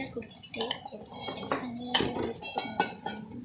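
A snack mixture is poured into a bowl and stirred, with scattered clinks and scrapes of a spoon against the bowl and a voice talking over the mixing.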